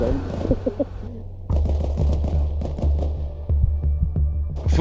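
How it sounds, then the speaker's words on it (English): Gunfire in an Arma Reforger shootout: bursts of shots crack repeatedly over a low rumbling hum, fairly loud and dense, with a brief quieter lull before the firing resumes, no talk over it. "there's a shootout like this all the fucking time"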